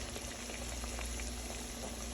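Chicken cooking in very hot grease, a dense continuous bubbling sizzle heard close up and without a break.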